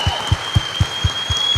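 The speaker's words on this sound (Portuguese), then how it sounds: "Vamos dar um aplauso para ele, amém?" Slow, evenly spaced rhythmic claps from a church congregation honoring its pastor, about seven steady beats over a faint background hum.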